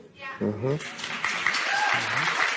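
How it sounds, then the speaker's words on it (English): Studio audience applause fills a talk-panel show, a short voice first, then a steady, fairly loud wash of clapping that carries on to the end with brief speech over it. "I don't really think that's kind of a lousy applause for that"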